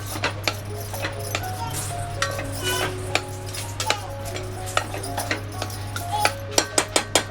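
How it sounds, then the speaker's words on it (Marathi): A spatula taps and scrapes as potatoes are stirred with spices in a pan, the sharp ticks coming steadily and then faster and louder toward the end over a constant low hum. "बटाटे टाकून जरा परतून घेऊया, कारण बटाट्यांना पण जरा मसाला लागला पाहिजे ना"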